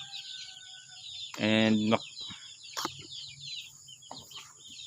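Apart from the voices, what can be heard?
free range chicks in brooder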